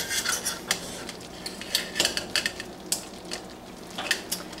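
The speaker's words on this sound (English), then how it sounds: "we need to carefully clip this candy thermometer on" A candy thermometer clipped onto a pan of boiling nut rocha mixture makes a series of close metallic scrapes, rubs and light clinks, arriving in short irregular bursts.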